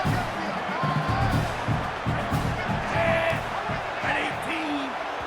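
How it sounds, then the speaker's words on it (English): A stadium crowd in the College Football 27 video game roars in a broad continuous wash on third down, with faint whoops rising above the din, heard under a commentator's voice. "the noise from this crowd on 3rd and 4"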